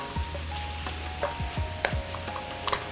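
Mushrooms brown in a pan for a green bean casserole, a soft continuous sizzle with a few stirring scrapes, close and moderately quiet, with no talk.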